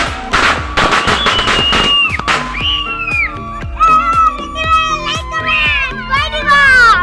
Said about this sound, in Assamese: বম একপিটিকে ফুটাইছোঁ